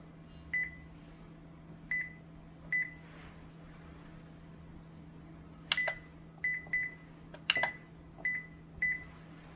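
A Konica Minolta copier gives off a whining electronic noise. Short, high, tonal chirps repeat in irregular bursts over a constant low electrical hum, with a few sharper clicks mixed in.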